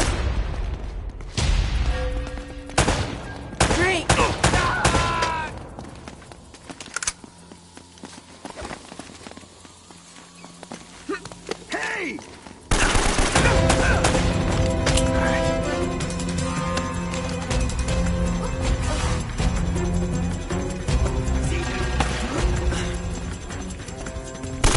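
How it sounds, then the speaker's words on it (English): Gunfire and chaotic action in Uncharted: Drake's Fortune, with sharp bursts of shots and clattering impacts mixed with game music and effects, thinning out midway before a loud, dense barrage returns. "You always seem to be getting shot at. They're shooting at you too,"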